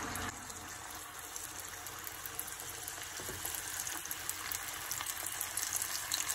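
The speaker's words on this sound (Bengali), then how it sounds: "এখন আমি মিডিয়াম আঁচে 3 মিনিটের মতো এটা ফ্রাই করব।" Battered lollipop chicken frying in hot oil at medium heat, a steady close crackling sizzle throughout with no talking.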